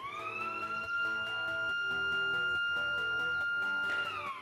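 An electronic siren from a water tank low-level alarm blares at a constant, loud pitch nearly throughout, then winds down as it is shut off near the end.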